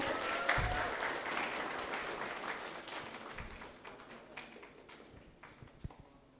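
A crowd applauds steadily, the clapping fading gradually toward the end.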